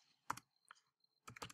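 Quiet keystrokes on a computer keyboard come in two short bursts of rapid clicks separated by a brief pause, with a few faint isolated taps between them and no talking.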